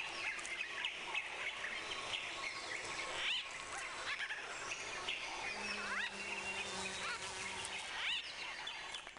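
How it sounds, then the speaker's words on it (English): A melee of birds chirping and singing varied songs fills a large, lush green habitat, with overlapping calls and whistles at moderate distance running steadily throughout. "A melee of chirping birds singing dissimilar songs in one big and luxuriantly green"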